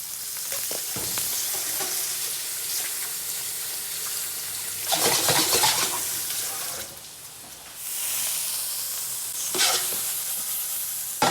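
St. Lawrence shrimp shells sear in hot oil in a saucepan with a steady sizzling hiss, broken by a few louder crackling bursts as the shells are stirred, and there is no talk.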